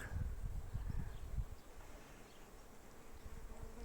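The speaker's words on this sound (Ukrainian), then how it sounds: "Трудяшки, бачите, в об'єктиві одна, але їх тут, навірно, цілий вулик." Bees buzz around flowering plum blossoms outdoors in a dense, steady drone, with a fuller, closer hum early on fading to a softer background swarm, no voices present.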